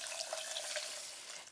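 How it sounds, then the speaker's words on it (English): Water poured from a container into a pot of golden flax seeds, a steady bright splashing stream lasting the whole moment, close and fairly loud with no talking. "you add about 2 cups of water."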